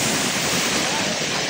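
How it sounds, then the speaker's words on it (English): A waterfall on a Costa Rica river rushes in a loud, steady broadband roar that fills the whole short moment without a break, heard close by. "we're at the waterfall"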